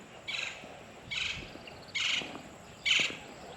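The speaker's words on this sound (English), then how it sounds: "Chachalaca's going nuts." Plain chachalacas call at Resaca de la Palma, a South Texas nature park, in four evenly spaced, raspy bursts that carry clearly over a quiet outdoor background.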